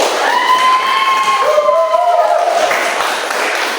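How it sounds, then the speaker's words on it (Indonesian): Classroom audience of students clapping and cheering after a student's reflection on a lesson about rukhsah in worship, a steady dense crowd noise with shouts and whistle-like tones rising over it throughout. "Bolehlah kasih aplaus lagi"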